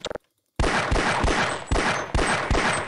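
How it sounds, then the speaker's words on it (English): In a Half-Life mod game, a Desert Eagle pistol fires using Glock gunshot sound effects. A brief click is followed by a pause, then a rapid run of about six loud, close shots that nearly run together. "It's a deagle with Glock sound effects"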